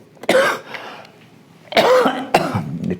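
A single short cough from a lecturer in a classroom, then a quick throat-clearing cough about a second later, close and fairly loud with quiet room tone between.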